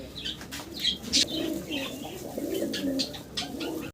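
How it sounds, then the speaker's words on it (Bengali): A pair of young Lakha pigeons coo close by in soft, rolling, repeated calls, punctuated by a few sharp chirps and brief wing flutters. "এই চমৎকার লাক্ষা পেয়ারে কবুতরের জোড়াটা আপনারা পাচ্ছেন"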